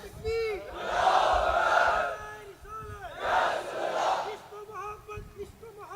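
Large crowd at a Sunni religious gathering chanting slogans in loud unison, two long swelling shouts separated by a brief pause, with a voice speaking between and after them.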